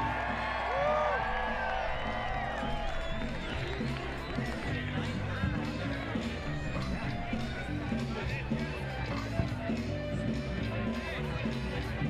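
Spectators at the Kona pond skim event cheer, whoop and shout as a continuous, lively roar that runs throughout, with an announcer talking over it.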